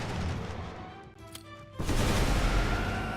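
Mine explosions in the Magicka video game burst out as a sudden, loud, broad blast that hangs on as rumbling noise after a few quieter crackling effects.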